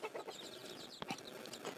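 Free-range gavrani village hens on a farm cluck softly and steadily, with faint scattered calls in the open air and no talking.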